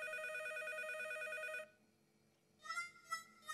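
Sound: telephone ringing in cartoon

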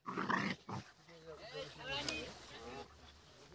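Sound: pitbull puppy dog growling

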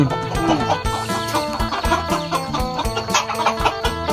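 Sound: chickens clucking

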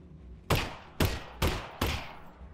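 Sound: gunshots from the video game GoldenEye: Runway

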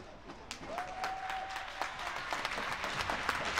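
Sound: crowd applause at inline hockey game

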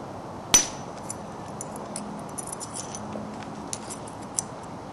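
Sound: flint knapping, striking a stone biface with a hammer

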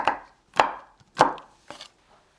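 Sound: knife roughly chopping peanuts

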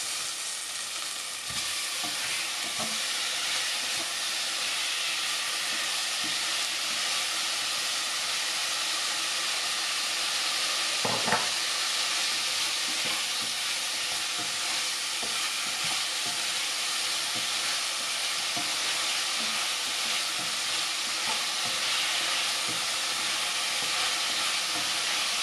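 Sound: tomatoes sautéing in pan for Chettinad chicken kulambu

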